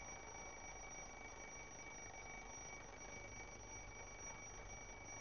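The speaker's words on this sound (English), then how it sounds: "We can hear the sound the bell makes all the way around the clock." An alarm clock bell rings continuously in a dense, steady metallic clatter, unbroken and constant in level throughout.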